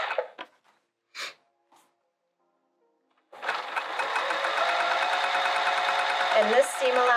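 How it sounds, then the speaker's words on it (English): After a few brief voice fragments and a silence, a sewing machine starts up top stitching fabric pockets, running as a continuous, close, rapid mechanical whir for the remaining four seconds. "I'm just gonna top stitch them really quick"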